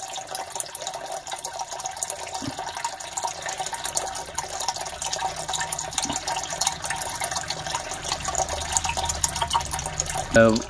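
Water splashes and trickles continuously as it is poured over a pet snakehead fish, a close, steady running flow with a brief louder burst near the end.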